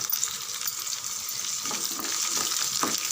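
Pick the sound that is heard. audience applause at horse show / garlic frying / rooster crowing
garlic frying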